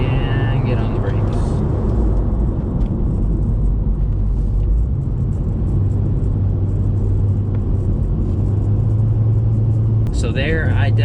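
A Corvette fitted with new Wilwood brake pads and rotors is driven at speed and then braked. Loud, steady engine and road rumble runs throughout, close up, with someone talking over it.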